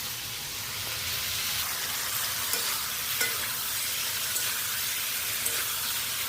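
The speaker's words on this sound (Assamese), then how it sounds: "মই এনেকৈয়ে বনাওঁ এইটো অলপ ফ্ৰাই কৰি লওঁ" Food frying in a hot pan with a steady, continuous sizzle and hiss, fairly close, with faint stirring scrapes and occasional small pops throughout and no talking.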